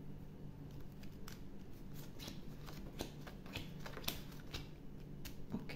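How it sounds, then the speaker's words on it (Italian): Tarot cards handled up close at a reading table, five drawn one by one, giving a dense run of light ticking card flicks and shuffling clicks, steady and moderately quiet with no voice. "Prendiamo 5 carte."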